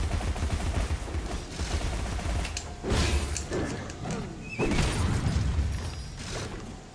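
Dense, continuous weapon fire from Alice: Madness Returns, sustained bursts of shots and mechanical clatter with a few sharper impacts, steady and loud throughout.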